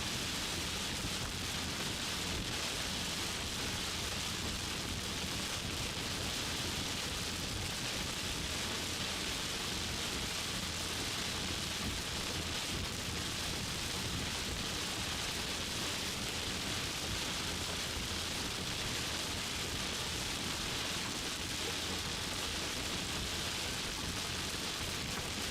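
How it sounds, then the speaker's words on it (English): Heavy thunderstorm rain near Fort Randall, South Dakota, pounding as a dense, unbroken roar of drops on a moving vehicle, loud and steady throughout with no voices. "They're driving right into the storm so far, just looking at a lot of rain"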